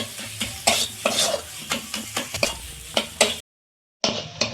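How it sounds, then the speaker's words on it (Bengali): Spices and salt stir-fried in a pan for a bitter gourd dish, a sizzling hiss with rhythmic scraping strokes of a spatula about every half second, close and loud, cut by a short silence. "নুনটা দিয়ে সমস্ত মশলাগুলো এইভাবে একটু কষিয়ে নিচ্ছি"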